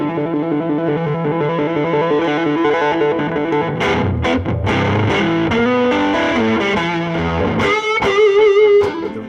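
An electric guitar plays through the overdrive circuit of a J MOD 100 amp, giving a full-bodied, Marshall-stack-like distortion with loud sustained chords and picked notes, ending in a bright ringing phrase.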